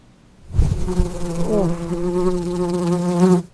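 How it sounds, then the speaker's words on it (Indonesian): A steady, close AI-generated bee buzz droning continuously for about three seconds, with a slight pitch waver partway through. "lebah ya. Ya, suara serangga lah"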